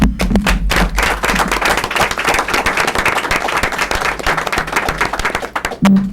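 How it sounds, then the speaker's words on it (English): A room of people at a school committee meeting claps in a close, lively round of applause, individual hand claps distinct and loud, thinning briefly before a final burst. "we'll have one more round of applause"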